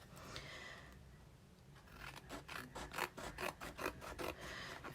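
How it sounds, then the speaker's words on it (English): Scissors trimming excess cardstock for a Stampin' Up bird card, a soft rasping snip sequence that grows into a steady run of rhythmic cuts in the second half, close and fairly quiet. "Let me trim that off real quick."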